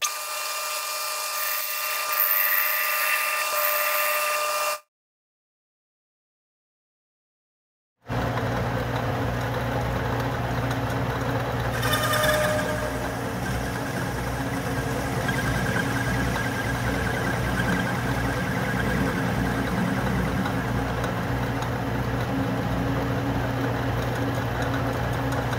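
Metal lathe facing off a part for an automatic center punch, a steady motor hum with a continuous cutting drone at close range, briefly interrupted by a gap of silence.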